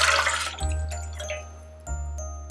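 Orange juice splashes into a saucepan of water for cranberry sauce, a close liquid pour in short bursts with brief pauses and no talking.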